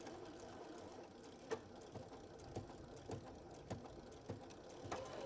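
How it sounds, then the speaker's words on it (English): Sewing machine stitching and back stitching a seam on a tote bag, a close, steady mechanical whir with regular clicking thumps about every half second, with no talking. "I'm gonna stitch and then I'm gonna back stitch."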